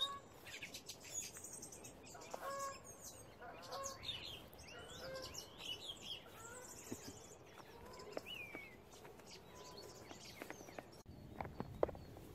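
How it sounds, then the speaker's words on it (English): Many birds sing and chirp together in trees and bushes beside a river, with overlapping whistles and calls throughout, moderately near, and occasional rustling footsteps underneath. "The birds are going crazy."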